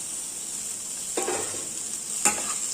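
Boiled potato pieces being sautéed in a pan for samosa filling, with a steady soft sizzle and two brief scraping stirs of a spatula, close by with no talk.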